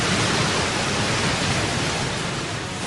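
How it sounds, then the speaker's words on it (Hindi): The tidal bore of the Qiantang River surges past as a dense, steady roar of rushing water, loud and continuous with no break and no voices. "पानी के इस उफनते गरजते दानव में हजारों घोड़ों की शक्ति होती है।"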